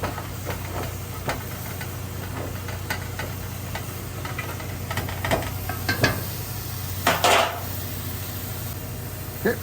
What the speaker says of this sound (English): I'm going to give it a stir and have that incorporate with the beef.